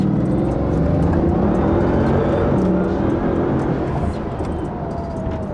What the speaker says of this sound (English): It's insane acceleration in this car.